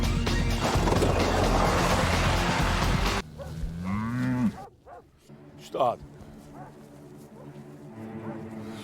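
A cow lets out a low drawn moo after a burst of loud noisy rumble, followed by scattered shorter animal calls and sounds in a quieter background.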